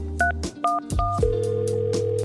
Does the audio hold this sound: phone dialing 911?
yes